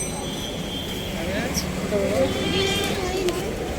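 Goats bleat at a busy livestock market, with several short wavering calls rising over a steady crowd din and ongoing talk nearby.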